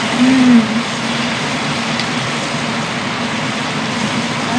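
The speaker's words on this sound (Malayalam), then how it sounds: "അസല മഴയാണ്" Steady, dense hiss of heavy rain fills the whole stretch, unbroken and loud, with no talking.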